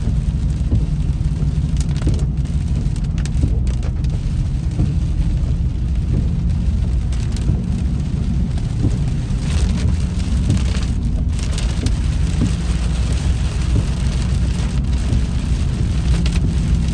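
Rain drumming on a car roof and windshield, heard from inside the car at a stoplight, a dense constant patter with a low rumbling undertone and no talk.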